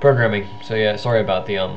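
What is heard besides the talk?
No everyday noises stand out.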